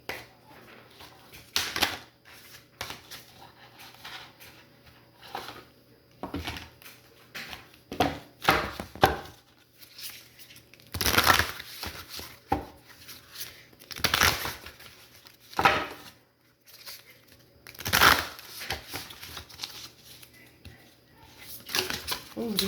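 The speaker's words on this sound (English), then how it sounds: "Oh, these cards are so hard for me to shuffle." Large oracle cards being shuffled in uneven bursts of papery slapping and rustling, close by, with pauses between.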